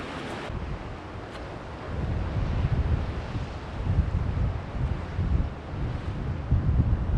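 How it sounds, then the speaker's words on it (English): Strong wind gusting across a rocky coastline with ocean surf, a steady broad roar that swells and eases in waves and buffets the microphone, with no voices. "Wind's calming down a little bit."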